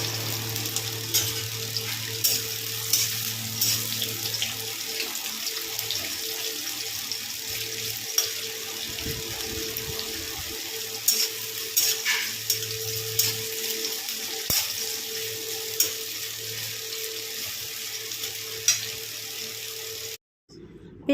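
Chopped onion fries in mustard oil with black cumin in a home kitchen, giving a steady, soft hiss with a low hum underneath throughout.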